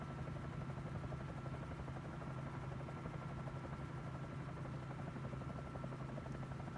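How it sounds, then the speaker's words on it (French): Bell 47J helicopter engine in a flight simulator, a steady droning rotor and engine hum with a strong low tone, constant and unbroken throughout with no talk. "Peut-être aurais-je dû mettre le son un peu plus fort donc de notre hélicoptère."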